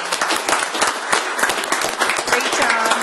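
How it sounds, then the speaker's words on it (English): An audience applauds an employee at a staff recognition event, with many distinct hand claps forming a lively, uneven patter for a few seconds, fairly close, while a voice talks faintly underneath. "So if I could have a round of applause for Maria."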